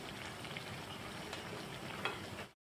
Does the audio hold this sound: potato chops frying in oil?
yes